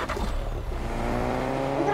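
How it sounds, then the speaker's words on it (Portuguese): A taxi car driving in the Fortnite video game, its engine hum steady and continuous over two seconds with low rumbling tones and no talk. "Tá, eu vou dirigir o meu táxi."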